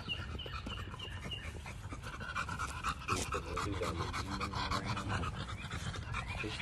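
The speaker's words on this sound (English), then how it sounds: "That is the chocolate dog that y'all just seen." A chocolate-coated dog pants steadily outdoors on a warm Kansas City day, close and continuous, with faint clucking fowl in the background.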